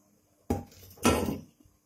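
Two short clinks and clatters of spice being tipped from a container into a bowl of Gujarati mango pickle mix, roasted red chili and turmeric going in; close, quiet, separated by brief pauses.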